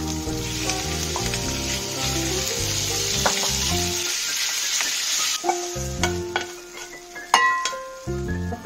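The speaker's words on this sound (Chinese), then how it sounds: "爆一爆香冬菇，啲冬菇索油嘅姜丝" Shiitake mushrooms stir-fried with shredded ginger in oil for a pork soup with wood ear fungus: a bright, steady sizzle with clinks and scrapes of a utensil, under tonal background music that drops away partway through.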